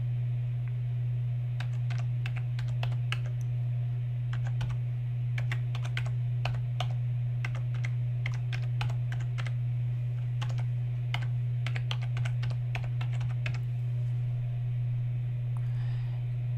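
Steady typing on a computer keyboard, close and continuous with irregular bursts of key clicks over a low constant hum.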